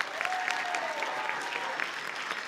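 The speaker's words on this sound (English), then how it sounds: "one big round of applause for Mrs. Green." An audience at a high school play claps in dense, enthusiastic applause that runs throughout, close and steady, with a few whoops and cheers mixed in.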